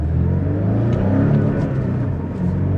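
A 2025 Porsche 718 Cayman with a turbocharged 300-horsepower engine accelerates from inside the cabin, its steady mid-pitched drone rising as the turbo builds boost, continuous and fairly loud with no talking.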